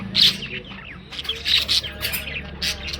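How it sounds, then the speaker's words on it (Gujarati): Sparrows chirp and tweet in quick, overlapping bursts, fairly close, over a steady low background hum. "ચકલાઓનું કલરવ જે ખરું ને ચાલુ જ રહેતું છે."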